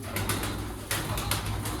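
A pigeon in a loft coos softly and repeatedly up close, with rustling and brief wing movement between the low calls, no speech.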